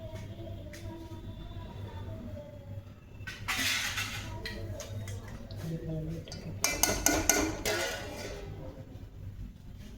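Clattering of metal pots, pans and a lid in a home kitchen while cooking dal and roti, with scattered clinks and two louder bursts of rattling against a steady background hum.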